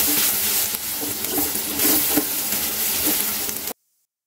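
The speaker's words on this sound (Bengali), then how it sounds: "একটু লাল লাল হওয়া পর্যন্ত ভেজে নিচ্ছি" Chopped onions fry in a clay pot with a bay leaf, whole cumin and salt, making a loud, dense, steady sizzle with faint stirring that stops abruptly near the end.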